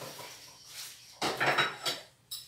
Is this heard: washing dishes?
yes